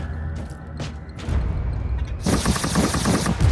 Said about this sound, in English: Cyclone missile launcher.